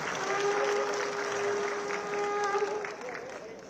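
Audience applause at a certificate distribution ceremony for passed-out film institute students in an auditorium, a steady dense clapping from a large crowd lasting throughout, with a faint tonal hum running beneath.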